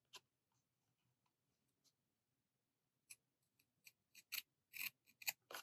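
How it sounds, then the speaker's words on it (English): Scissors trim excess paper from a handmade belly band. A few faint snips come first, then a quick run of louder, closer cuts. "let me cut off the excess here"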